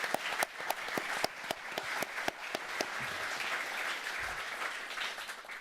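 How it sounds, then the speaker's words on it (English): A press conference audience applauds the event crew with scattered, moderately loud hand claps, sharp individual claps standing out over a light room murmur for several seconds. "can we just give a clap to the crew who did this both physically and logistically"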